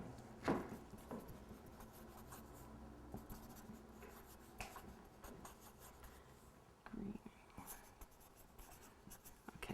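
Pen or pencil scratching notes onto paper by hand, a quiet, irregular scribble with scattered soft strokes and rubs, faint against a hushed room.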